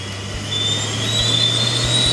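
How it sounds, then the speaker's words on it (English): A 2003 Chevrolet LB7 Duramax diesel truck with a Stealth 64 turbocharger cruises at low speed, a steady engine drone with a thin high turbo whistle rising slightly over two seconds, close and with no talk. "You can just instantly hear the turbocharger light."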